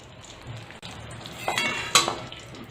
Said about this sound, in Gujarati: સરસ આપણે ગોળને ઘીમાં મિક્સ કરી લેવાનો છે